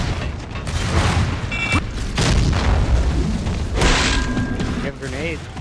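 A smoke grenade is thrown during a Gears of War 3 King of the Hill match, a muffled boom and hiss among game effects and thuds, with players talking over it.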